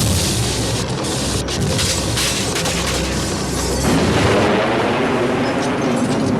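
Bomb explosion in the film Superman II, a dense, sustained roaring blast that swells again partway through and carries on loudly to the end.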